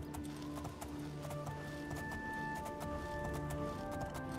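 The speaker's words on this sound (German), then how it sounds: "aber mit Pferd können wir zumindest, einfach an allen vorbeireiten" Horse hooves in The Elder Scrolls IV: Oblivion, a steady, rhythmic clip-clop of galloping hooves kept up throughout over game ambience and tonal music.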